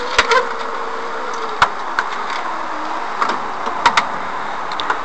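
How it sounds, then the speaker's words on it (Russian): An electric cable-type window regulator fitted to a classic VAZ car hums steadily as the glass is raised and lowered, with sharp clicks and knocks at the start and stop of each movement. "Стеклоподъемник поднимается, опускается, все четко."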